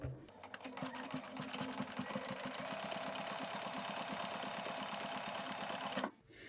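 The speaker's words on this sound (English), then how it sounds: "I'm using the triple stitch and I'm lengthening it" A sewing machine runs a lengthened triple stitch for top stitching on trousers, a steady rapid mechanical chatter of needle strokes held for about six seconds before stopping abruptly.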